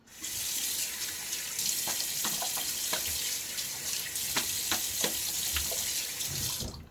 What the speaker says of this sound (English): And rinse.